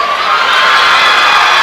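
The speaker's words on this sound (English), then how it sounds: "the student section from Franklin County applauding" A high school student section cheers and applauds in a gym at a basketball game, a brief, loud burst of crowd noise with shouts and whoops.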